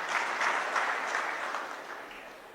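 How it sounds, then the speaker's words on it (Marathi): An audience at a public gathering claps together in a dense, steady round of applause, moderately distant and gradually tapering off, with no voices over it. "आता टाळ्या वाजवा."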